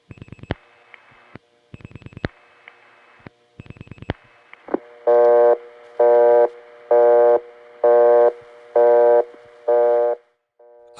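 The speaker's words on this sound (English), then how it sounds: "this has given us a very loud busy signal from the home office" A loud telephone busy signal on a 1976 life insurance company tie line, a steady on-off tone repeating about six times after a few clicks and short dial pulses, heard alone.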